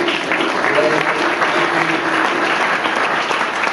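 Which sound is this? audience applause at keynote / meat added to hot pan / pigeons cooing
audience applause at keynote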